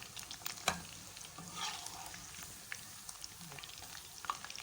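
Pakoras frying in oil until lightly browned, a soft, steady sizzle with crackling pops and occasional scraping from stirring, heard fairly close at low volume.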